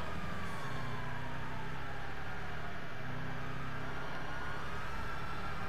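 A police car siren wails continuously in the GTA Online video game during a race, loud and steady over a constant engine and traffic roar.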